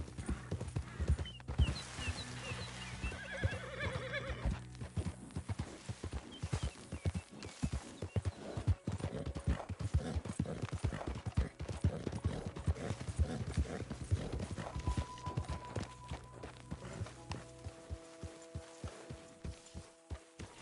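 Rhythmic clip-clop of horse hooves at a steady walking pace in the game Red Dead Redemption 2, close and continuous, with occasional game music tones and a brief whinny.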